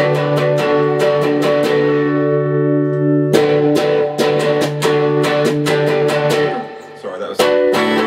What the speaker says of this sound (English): I've got a Marshall Governor distortion just breaking up the sound a little bit